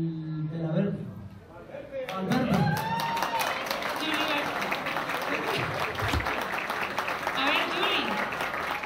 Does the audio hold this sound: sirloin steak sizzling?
no